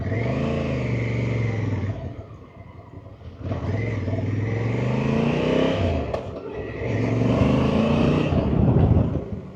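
A 2024 Honda Africa Twin motorcycle being ridden, its engine rising and falling through three long acceleration pulls with shifts in between, loud and close, with no speech.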